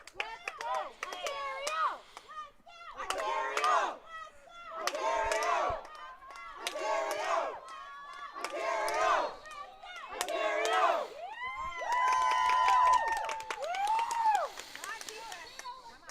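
A lacrosse game crowd chants a rhythmic cheer, repeated shouted phrases in regular pulses, then a rising, sustained yell with whoops near the end; a large crowd sounding at moderate distance.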